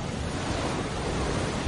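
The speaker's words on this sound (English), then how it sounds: "The hurricane's sheer wind power drives waves from far out at sea, increasing the high tide by as much as 20 feet." Heavy ocean surf whipped up by hurricane winds, a steady dense roar of crashing waves with wind buffeting the microphone throughout and a brief louder gust at the very end.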